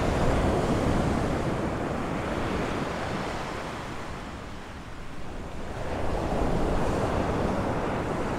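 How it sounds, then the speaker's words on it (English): Strong wind buffets the microphone on an Aruba beach while surf rolls in, a broad roaring wash that dips briefly midway and then swells again, with no voices. "hopefully it's eliminating some of the background wind noise. It is quite windy"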